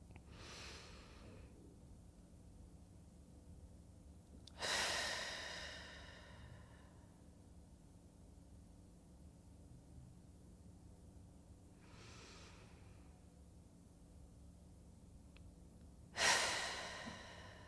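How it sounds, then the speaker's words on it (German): Slow, deep breaths during a relaxation breathing exercise, with two long airy exhalations standing out clearly against quiet room noise and softer inhalations between them, no talking. "Wir atmen."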